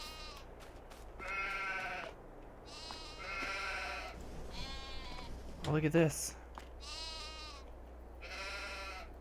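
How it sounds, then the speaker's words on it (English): Sheep in a Farming Simulator 22 farm pen bleat repeatedly in harmonic, wavering calls spaced through the clip, with a person talking between and over them. "We've got sheep."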